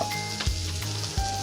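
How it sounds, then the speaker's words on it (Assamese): Chopped onions fry in hot oil for an egg chilli dish, giving a brief, steady, close sizzle with soft stirring pulses. "তেল দিয়াৰ পিছত অলপমান মই পিঁয়াজ দি আছোঁ।"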